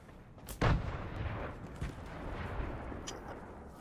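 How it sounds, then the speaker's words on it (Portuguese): Gunfire in Fortnite Battle Royale: one loud, close booming shot, then softer, more distant shots under a rumbling background, with no voices. "Tem alguém atirando mesmo, não?"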